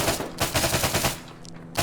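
VSS Vintorez suppressed rifle fired in ARMA 3, a rapid string of close, punchy gunshots in quick bursts, a brief pause, then one more shot at the end, with no talk.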